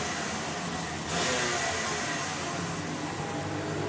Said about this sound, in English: Some annoying revving going on behind me.